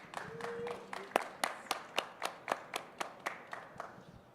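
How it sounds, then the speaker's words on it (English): Audience at a space research panel on patient care gives a short round of applause, a dozen or so distinct, evenly spaced claps rising out of a sparse start, fairly faint and with no voices. "If we could give them just a quick round of applause, I'd greatly appreciate it"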